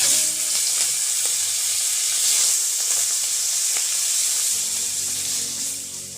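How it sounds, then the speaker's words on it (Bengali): Shrimp fry in hot mustard oil seasoned with turmeric in a pan, giving a loud, steady, close sizzle and hiss that holds throughout and eases slightly toward the end, with faint stirring clicks. "এবার চিংড়ি মাছগুলো তেলের মধ্যে দিয়ে দিলাম।"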